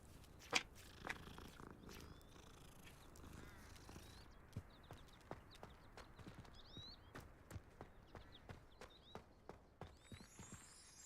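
A cat with leopard-like spotted markings purrs softly in Hogwarts Legacy, a low steady rumble under sparse clicking and thudding game sounds, with no talk.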